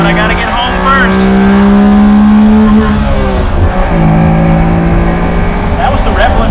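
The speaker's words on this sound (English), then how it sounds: "That was the rev limiter, in case you were wondering." A Honda Beat's small engine screams at high revs and bangs against the rev limiter, loud, close and continuous with a steady buzzing drone throughout.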